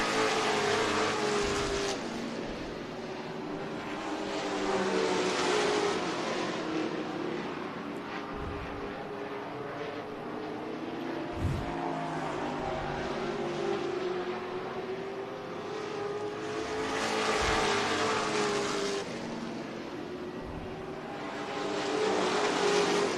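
Modified race cars roar around Tucson Speedway in a steady, loud, continuous engine drone that swells and fades as packs of cars pass, with no talk over it.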